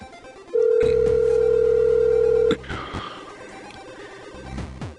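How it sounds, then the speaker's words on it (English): Phone ringing over speakerphone while calling a friend during a Who Wants to be a Millionaire game, a loud steady ring tone for about two seconds followed by quieter ringing and clatter. "We'll see if Joel Campos answers the phone."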